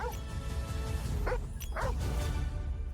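A dog in a video game gives a few short yelping barks and whimpers over a constant busy game soundtrack, fairly close and mixed under the background.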